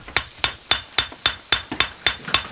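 A hammer strikes a knife blade during hand-tool knife making, with water on the hammer. There are about nine sharp, ringing metallic blows in a steady, quick rhythm, close and loud, with no talking.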